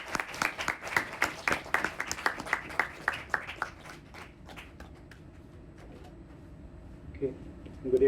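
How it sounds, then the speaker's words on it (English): An audience applauds to welcome guest speaker Dr. Vikas Sharma of Sher-E-Kashmir Agricultural University at a lecture, a scattered burst of clapping that thins out and fades after a few seconds, leaving a quiet room. "Please welcome him with a round of applause."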